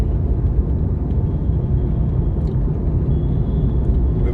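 Steady, dense rumble of road traffic on a morning drive through Conakry, Guinea, heading toward Koya, with engines droning continuously and close by and no voices.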